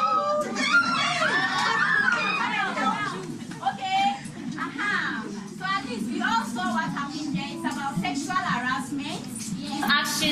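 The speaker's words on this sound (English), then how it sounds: "How would you scream?" A group of people screaming and shouting together at a gathering, a loud, sustained chorus of high voices with overlapping cries and chatter.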